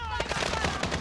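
Rapid gunshots from a firefight in the video game Call of Duty Modern Warfare, a quick burst of several cracks in about a second, close and moderately loud, with game voices in the background.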